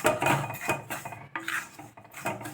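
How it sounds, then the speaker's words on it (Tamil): Semolina being dry-roasted in a pan: a spoon scraping and knocking against the pan in an uneven rhythm of close, clattering strokes, with no talk. "இப்போது ரவையை வந்து ஃபஸ்ட்டு நல்லா வறுத்துக்கலாம்"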